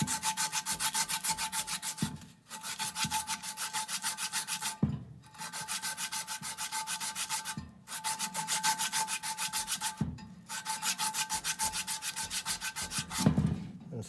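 Sandpaper rubbing against an ICP ECM X-13 blower motor shaft as it is slowly turned by hand, a steady rasping scrape in long strokes with brief pauses between passes, close and alone.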